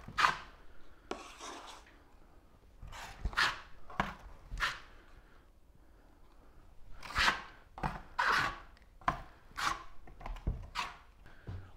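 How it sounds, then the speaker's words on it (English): A 10-inch drywall knife spreading plaster mud across a wall, rhythmic rasping scrapes in repeated strokes with short pauses between, fairly close and moderately loud. "Now take your 10-inch knife and begin just plastering the entire wall with it."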